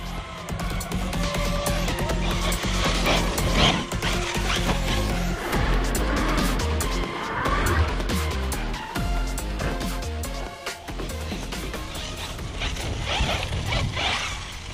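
A small Corally Asuga RC buggy on Louise T-Pirates tyres races along with a loud, buzzing motor whine, its wheels crunching and skidding over dirt, steady and close throughout.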